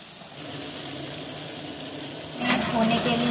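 Oats batter frying in oil in a hot pan gives a steady close sizzle that swells louder as more batter goes in partway through.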